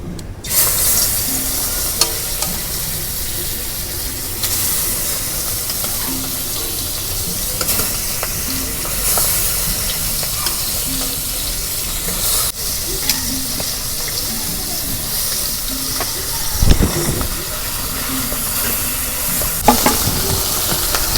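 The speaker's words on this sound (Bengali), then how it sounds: "তেল গরম হচ্ছে, এখন আমি মাছ ভাজে নেব।" Pangas fish frying in hot oil, a loud, unbroken crackling sizzle with occasional clatters and a brief thump, no speech throughout.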